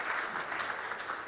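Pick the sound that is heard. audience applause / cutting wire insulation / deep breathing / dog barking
audience applause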